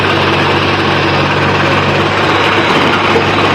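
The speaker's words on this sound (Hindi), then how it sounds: "ये जेसीबी चल ही रही है सुबह से और ट्रैक्टर ही चल रहा है" A JCB excavator and a tractor running in a field, a loud, constant engine drone with a steady low hum and no breaks.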